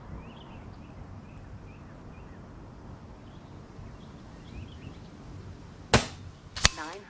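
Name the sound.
Impact MKII air rifle firing NSA 43.5 grain slug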